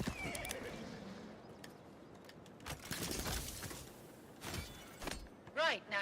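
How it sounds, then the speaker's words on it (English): A horse in a video game whinnies near the end with a clear rising neigh, after scattered hoof clops and other game sounds, quiet overall. "Come on, horsey. Horsey."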